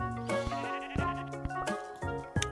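Sheep bleat repeatedly in the Miniland Adventure video game, several wavering cries over a steady tonal music bed, clear and close with no talking.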